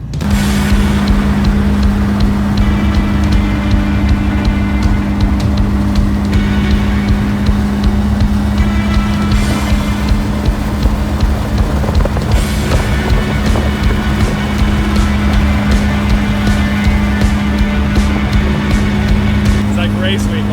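A car drives steadily along a highway on a hot-day road trip, with a continuous engine drone, road rumble and wind noise. The sound is loud and constant from inside the vehicle, and a voice talks over it.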